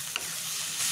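A papaya and flat bean mash being stirred and sautéed in a pan, with a soft continuous sizzle and a few brief scraping stirs, close and steady with no talking.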